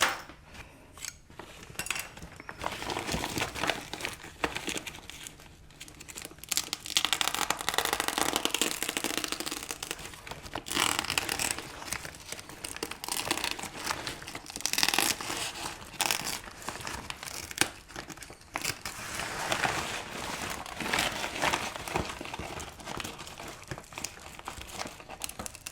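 Crinkly, crackling rustles and scrapes come from the woven plastic of an IKEA shopping bag being cut with scissors and handled in a workshop, close and continuous with occasional clunks, no talking.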